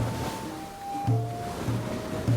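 Rough sea waves surge and wash in a restless, steady rush, with low thumping swells and some tonal creaks over the top, with no talking.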